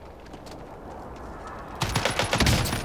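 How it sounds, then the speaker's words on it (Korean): After a quiet start, a rapid burst of video game gunfire erupts, loud, close shots rattling in quick succession. "총소리 내줘 총소리 야"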